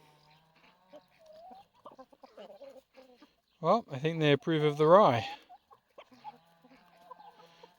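A group of cockerels breaks into a loud burst of clucking and squawking, while someone speaks quietly before and after.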